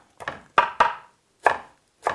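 A knife chops fresh Italian parsley and chives on a cutting board, giving five or six sharp, close thunks at an uneven pace with short pauses between them and no talking.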